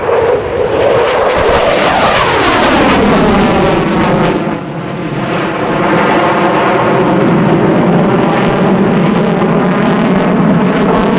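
An F-15C Eagle jet making an afterburner pass at the Dover AFB air show, a very loud sustained roar with a sweeping, shifting pitch as it passes overhead, continuous for the whole stretch with no talk.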